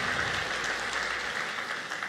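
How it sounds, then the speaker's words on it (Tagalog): A church congregation applauds, a soft, even patter of many hands clapping at a distance for a couple of seconds with no voices over it. "Mas malakas pong palakpak para kay Jesus."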